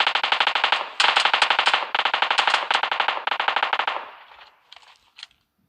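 Automatic gunfire in PUBG Mobile Lite comes from behind as loud sustained bursts of rapid shots, each lasting about a second, then several sparser shots trailing off into silence.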